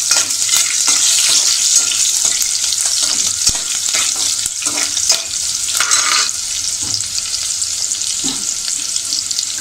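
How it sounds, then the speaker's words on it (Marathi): Green chillies sizzle and crackle in hot oil in a pan for a savory jackfruit dish, a steady loud fry with occasional stirring clicks and scrapes throughout. "थोडी मिरची आपण परतून घेऊया."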